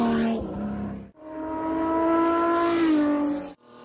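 A classic four-stroke motorcycle engine revs in long, rising-and-falling pulls with a clear tonal whine, loud and close, broken by brief pauses between revs and with no talking.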